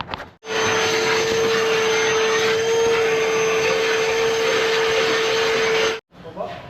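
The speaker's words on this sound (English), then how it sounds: "How about a vacuum so I can get this out of here and start cleaning up?" Shop vacuum cleaner running steadily while cleaning out the engine area of an IH Dresser TD25G bulldozer, a loud continuous motor whine that starts abruptly, holds for several seconds, then cuts off with a brief noise after.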